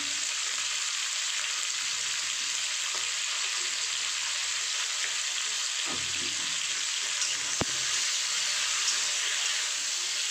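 Hyacinth beans sizzle steadily in a hot pan with salt, a continuous close, bright crackle that stays even throughout with a couple of faint stirring clicks and no voices.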